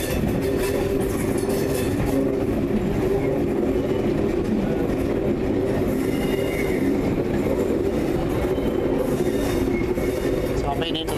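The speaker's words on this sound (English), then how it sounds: "Now I'm on a train on the railway." A train runs along a railway line past a supermarket, heard from on board as a loud, constant rumble and rattle of wheels on the rails that never lets up.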